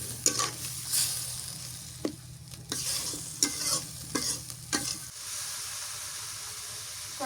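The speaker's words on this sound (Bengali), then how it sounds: "দেশি মুরগি শক্ত খুব, একটু পানি দিয়ে ভালো করে কষান করে নেওয়া লাগবে।" Country chicken fries in a pan while a spatula stirs and scrapes it in repeated strokes, steady close sizzling under sharp metallic scrapes that fade to quieter sizzling near the end.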